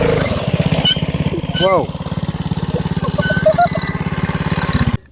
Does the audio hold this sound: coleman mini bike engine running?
yes